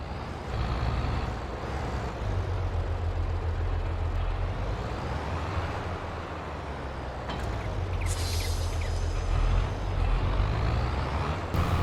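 A farm vehicle in Farming Simulator 22 drives through long meadow grass with a steady, fairly loud low engine drone and rumble. Brighter mechanical noise rises near the end, and no one talks.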